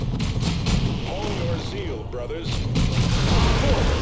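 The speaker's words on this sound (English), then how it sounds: "Grenade them, go." Grenade blasts and gunfire rumble through a Warhammer 40k Dawn of War 2 battle, a dense and steady wash of combat noise with voices talking over it.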